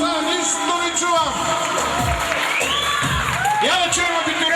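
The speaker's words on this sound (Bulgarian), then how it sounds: "Ето ги, аплодисменти!" A crowd at a graduation celebration cheers, whoops and shouts continuously, with scattered clapping, children's voices and an amplified voice calling out over the din.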